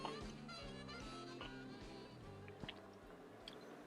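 Quiet, close-up chewing of a sandwich with crunchy vegetables, soft crunchy bites and wet mouth sounds, repeating steadily.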